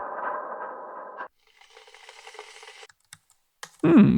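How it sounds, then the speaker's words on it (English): A sampled computer keyboard typing loop: a short burst of dense clicking keys, a pause, then faint sparse key taps, set between other synthetic tones in a music production session. "Keyboard could be interesting."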